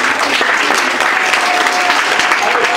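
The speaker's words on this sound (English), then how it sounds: "Can you clap for yourself for being here?" A school audience of children and staff clapping together at an English-speaking event, loud continuous applause close by with a faint whistle-like tone running through the middle.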